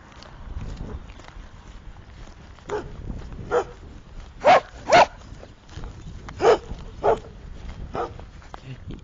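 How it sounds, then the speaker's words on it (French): Outdoors at night, several dogs, labradors among them, bark and yelp at a distance. The barks come as scattered loud bursts over a steady background hum, with faint talk in the mix. "Écoutez les chiens."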